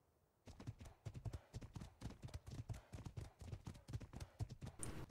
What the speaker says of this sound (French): Des chevaux.